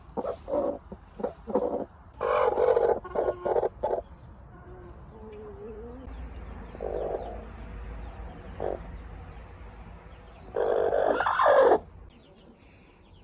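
Hens at a farm, including a brooding hen, cluck in short close bursts with quieter murmuring between, ending in a louder run of calls.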